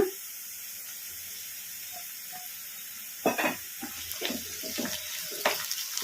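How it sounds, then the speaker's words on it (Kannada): Chopped tomatoes hit a pan of frying onions with a soft sizzle, followed by a few scattered scraping and stirring knocks against the pan, close and fairly quiet, with no talking. "ಈಗ ಇವನ್ನ ಉಳ್ಳಾಗಡ್ಡಿಗೆ ಹಾಕಿ ಫ್ರೈ ಮಾಡ್ಕೊಂಬಿಡೋಣ"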